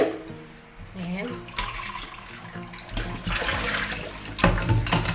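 Water rushes and gurgles down a drain in uneven surges, close by, while a person talks intermittently over it, draining water from noodles for lomi.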